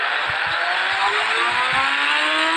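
A motorbike engine in a video game hums in a steady, loud, continuous drone with slowly shifting pitch, as if cruising or revving gently, with faint low thumps underneath.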